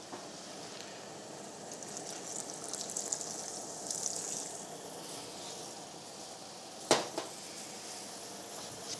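Calf brains are rinsed under running water from a kitchen tap, a faint steady trickle and splash with a brief louder knock near the end.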